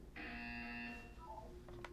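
A buzzer in the video game Portal 2 sounds as a steady, sustained electronic tone for about a second, followed by fainter shifting tones and a short click near the end, over low background hum.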